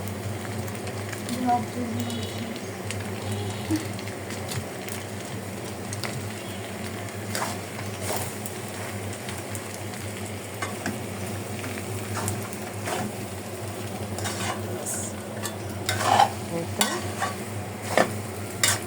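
Steady sizzling and scraping of pasta being stir-fried with spices in a pan, with occasional clinks of a utensil against the pan throughout.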